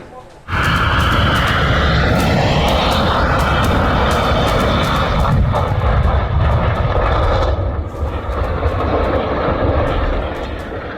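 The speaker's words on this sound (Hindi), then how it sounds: "पहले हार्ड लैंडिंग, फिर रनवे पर खिसकता विमान," A loud, sustained jet engine roar with a broad rumble as an airplane makes a hard landing and slides on the runway, dropping slightly near the end, while a voice speaks over it.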